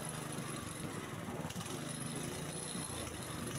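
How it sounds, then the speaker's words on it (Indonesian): A small engine runs steadily at idle with the throttle set on the handle, a constant mechanical drone with no change in pace. "jadi posisi engine ataupun mesin hidup, jadi nggak ada masalah"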